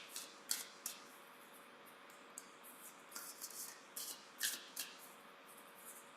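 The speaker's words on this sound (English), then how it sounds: "So shuffle in a little here, draw the top card" Tarot-style cards being shuffled during an evening meditation session: soft, quiet riffling bursts and short papery snaps scattered irregularly over a low room hum, close to the microphone.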